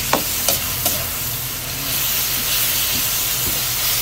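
Chicken afritada simmering in liquid in a pan gives a loud, continuous steamy sizzle and hiss, with a few clinks of stirring utensils near the start.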